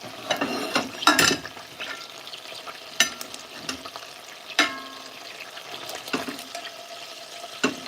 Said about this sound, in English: after marination, you put them in the pot to let them sear